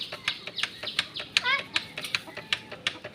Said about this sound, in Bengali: এই যে দেখো মুরগিগুলো সব আসছে